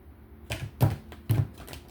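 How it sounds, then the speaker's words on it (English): A deck of playing cards is shuffled during a tarot-style card reading, giving three quick riffling bursts about half a second apart, close and fairly soft, with no talking over them. "So I'm going to shuffle one more time."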